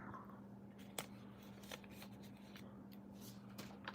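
A deck of cards is shuffled in a quiet room, soft riffling with several sharp snaps and flicks scattered across a few seconds, close but faint, no talking.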